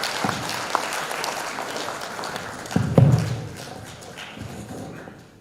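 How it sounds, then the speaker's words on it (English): Business breakfast audience applauds the Premier, scattered sparse claps with a thump and brief murmurs, fairly quiet and uneven rather than a full ovation. "Big round of applause for the Honourable Premier."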